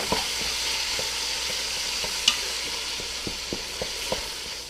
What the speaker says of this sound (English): I start to let it cook. And with the ground beef, I'm gonna mix the onions and the garlic.